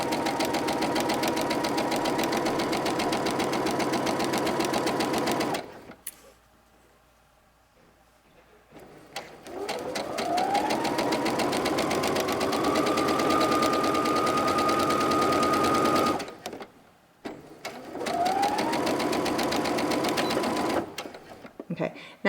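A sewing machine stitches fabric for a tote bag in several bursts of fast, even mechanical whirring, with short pauses and a rising whine as it speeds up, while someone talks between and over the runs.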